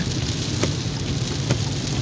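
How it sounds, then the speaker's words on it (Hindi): Heavy rain pours on the Makkah-Arafat road: a dense, steady hiss and patter with a low rumble underneath, continuous and close throughout, with no voices. "बारिश बहुत ज़्यादा हो रही है"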